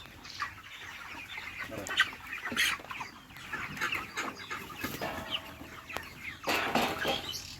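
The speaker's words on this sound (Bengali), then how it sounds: "এখানে আমি এক হাজার ব্রয়লার বাচ্চা উঠাইছিলাম ওদের বয়স আজকে একত্রিশ দিন" Broiler chickens, a flock of about a thousand birds aged thirty-one days, cluck and chatter together inside a poultry shed, with a steady busy murmur and occasional louder squawks rising over it.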